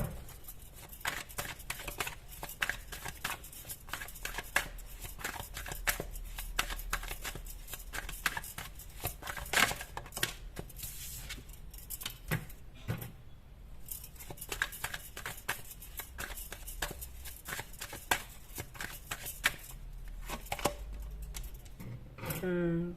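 Tarot cards are shuffled and drawn by hand, giving a run of soft flicking and tapping, close and fairly quiet, broken by brief pauses.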